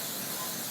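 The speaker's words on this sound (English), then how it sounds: "So take my spray, and I'm going to spray this one liberally" A steady, continuous aerosol hiss of cooking spray onto a waffle iron, close and fairly loud, lasting under a second with no talking.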